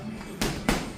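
Two sharp padded smacks of a boxer's punches into boxing mitts land in quick succession, close and punchy over faint room noise.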